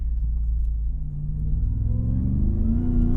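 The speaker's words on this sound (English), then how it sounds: "The crazy part is that the truck is so loud, especially when you're like out here in nature." Outdoors in open countryside, a 2020 Ram 1500 TRX pickup's engine gives off a deep, steady rumble that swells slightly as it revs, loud and close with no voices.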